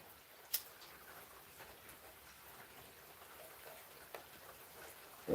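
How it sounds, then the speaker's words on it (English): Rain falls in a soft, steady patter on a surface, heard faint and alone, with a couple of slightly sharper drips standing out. "This is clearly rain. You can hear it yourself with your own ears."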